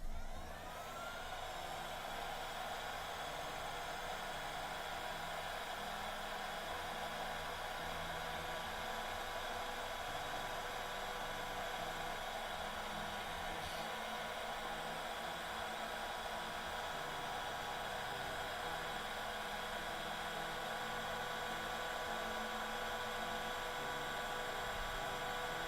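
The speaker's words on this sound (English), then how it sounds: "Use the heat gun." A heat gun dries paint on a bear-and-bees field painting. Its constant hissing blower drone runs unbroken and steady at a moderate distance for over twenty seconds.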